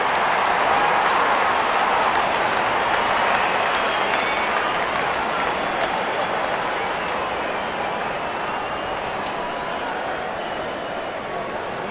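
A stadium crowd in the Real Cricket video game cheers and applauds in a dense, steady roar that holds at a fairly loud level for the whole stretch, easing only slightly toward the end.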